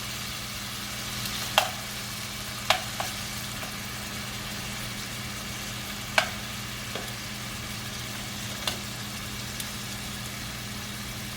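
Pepper steak pieces sear in a hot pot in a low, continuous sizzle and hiss, with a steady hum underneath and a few sharp clinks and taps spread out over the sound. No one speaks.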